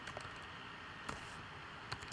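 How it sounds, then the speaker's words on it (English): Faint, sparse computer keyboard clicks over a steady background hiss, a few soft isolated keystrokes spread across a short stretch, with no voices. "Typing a little too quickly for myself here."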